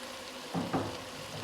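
Ridge gourd and fish curry frying in oil, a quiet steady sizzle with a few brief louder bursts of bubbling spatter.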